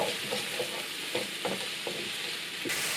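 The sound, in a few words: frying onions and mushrooms in oil in a pan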